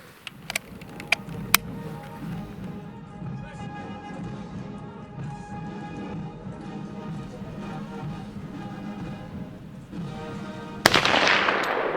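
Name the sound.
Mk I Lee Metford rifle firing shots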